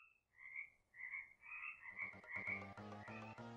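Minecraft frogs from the video game croaking: a series of short, bubbly, rising croaks repeated in a loose rhythm, joined partway through by a low, sustained musical tone, fairly faint overall.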